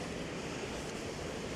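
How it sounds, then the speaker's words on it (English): A waterfall rushes nearby where two rivers meet, a steady broadband roar of falling water with no talk over it. "Get a shot of this waterfall."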